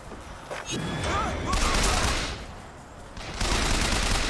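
Bursts of automatic gunfire in the video game Bioshock Infinite, loud crackling volleys in two or three waves with a brief pause between them.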